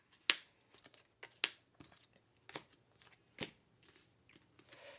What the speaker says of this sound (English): All players draw 2 cards.